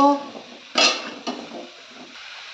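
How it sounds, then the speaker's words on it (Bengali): Vegetables with spices are stirred in a cooking pot, a few sharp scrapes and clanks of a utensil against the pot between quieter moments, close and fairly loud. "এবার আমি সমস্ত সবজিগুলো দিয়ে দেব। ভালো করে নেড়ে নেব।"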